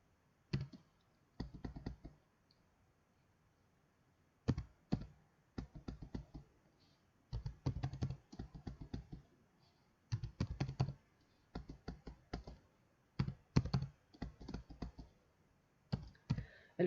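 Computer keyboard typing in bursts of rapid keystrokes separated by short pauses, close and clear with no talking.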